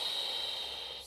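A single soft, faint breath is pushed out through the nose and mouth during a pregnancy shoulder and back stretching exercise. It is heard up close as a brief airy hiss with no talking.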